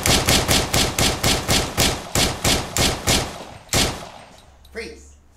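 Gunshots in a comedy scene ring out as a rapid, steady volley of about fifteen loud shots, followed by a last single shot after a brief gap. A short vocal sound follows at the end.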